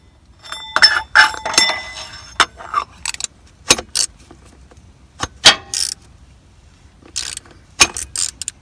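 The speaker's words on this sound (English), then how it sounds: "I'm gonna grab that oil filter wrench and snug it up." An oil filter wrench snugs an oil filter on a Cummins 6.7 engine, giving close, sharp metallic clinks and ratcheting clicks in irregular bursts separated by brief silences.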